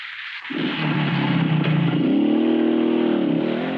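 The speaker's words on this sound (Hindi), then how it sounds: "गंगा मोटरसाइकिल लेके भाग गई" A motorcycle starts up close by and drives off during a curfew in a border village. The engine rumbles and rises steadily in pitch as it revs, loud and continuous, with no talk over it.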